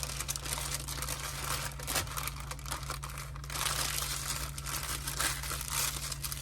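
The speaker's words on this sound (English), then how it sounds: "what I'm gonna do is wrap it up into this piece of wax paper" Butter being wrapped in a torn sheet of wax paper, continuous close crinkling and rustling with small crunchy bursts, fairly quiet and with no voices.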